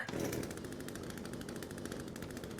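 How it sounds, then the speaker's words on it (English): A chainsaw buzzes in a video game, a fairly faint, rapid rattling drone that runs steadily for a couple of seconds with no talk over it. "My chainsaw stopped working."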